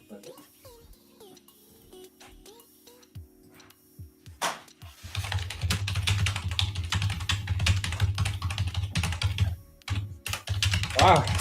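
Typing on a mechanical keyboard with red switches, rapid clustered keystrokes close to the mic, starting sparse then becoming dense and continuous over a low hum, with a voice briefly heard early on.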